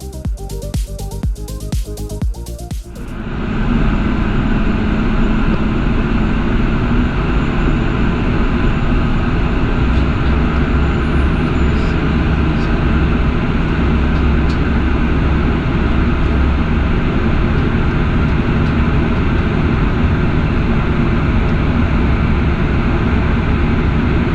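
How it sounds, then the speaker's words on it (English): A passenger train on the West of England line rumbles steadily along the rails, a loud continuous roar with a brief rattling burst at the start. "let's listen to the sound of our train today."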